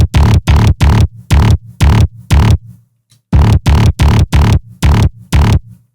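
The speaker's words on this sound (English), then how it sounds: "let's add even more distortion using the pedal tool" Sub bass heavily driven by fuzz distortion from a pedal effect, pumping in loud, thick, even pulses in two rhythmic bursts separated by a short gap, dense and gritty with booming low end, no talking.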